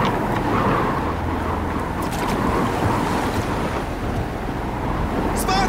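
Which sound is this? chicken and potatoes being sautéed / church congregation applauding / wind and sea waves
wind and sea waves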